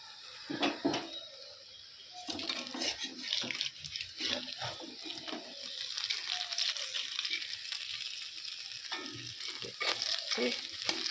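Food sizzles and fries steadily in a pan, with stirring and scraping sounds rising over the crackle and a few louder bursts; no one speaks.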